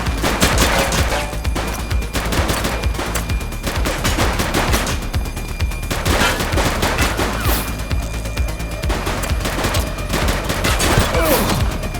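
Loud, rapid gunfire in a police shootout in the video game The Precinct, dense bursts of automatic and single shots cracking almost continuously, close and punchy, with brief gaps between volleys.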